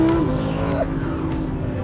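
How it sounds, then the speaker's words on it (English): A 2020 Audi R8 V10 Performance accelerates hard while its gearbox snaps through rapid manual paddle shifts, with a loud engine note that drops abruptly at each change, heard from inside the car. "Listen to how fast the shifts are."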